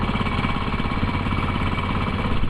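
A Wacker plate compactor runs on asphalt nearby, a loud, steady, rapid thumping engine pulse that continues without a break.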